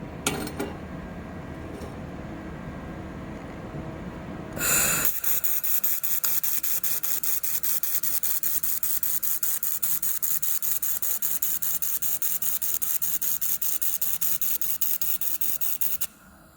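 A 2000 W laser welder with dual wire feeder welds aluminum over a previous weld, a steady loud buzzing hiss with rapid pulsing that starts after about five seconds and runs without pause, following quieter mechanical rattling.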